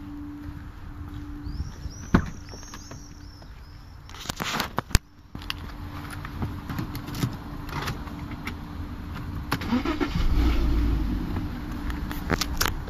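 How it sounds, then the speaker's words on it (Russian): A Porsche Cayenne engine is started during a fuel pump check: clicks and key jingles come first, then a loud starting burst settles into a steady, close idle hum that swells slightly toward the end. "Теперь заводим машину."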